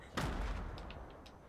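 Video game explosions and gunfire: a sharp blast opens, then a rolling rumble with a few scattered crackling shots trailing off, moderately loud.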